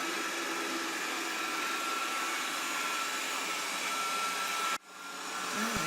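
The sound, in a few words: Proscenic 820S robot vacuum cleaner running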